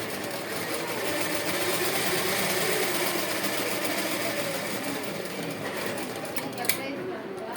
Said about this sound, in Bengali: এটা এইভাবে আমি এটা সেলাই করে নিচ্ছি।